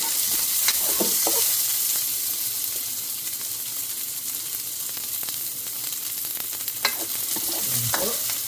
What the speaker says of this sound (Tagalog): Lalagay po natin ang bawang at ang sibuyas.